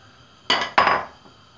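A metal pan for cooking mushrooms clanks twice on a stovetop, two sharp close knocks with a short ringing tail, in an otherwise quiet kitchen.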